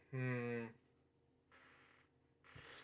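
A cartoon cow gives a loud, drawn-out moo with rich harmonics, followed by quieter, softer sounds in an animated story.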